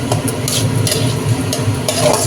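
Fried catla fish in oil being lifted out of a wok, loud close scraping and stirring over a bubbling sizzle, with a few brighter clatters of a utensil against the pan.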